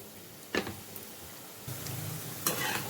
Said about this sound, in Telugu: చూడండి, కాకరకాయ ఫ్రై అవుతుంది.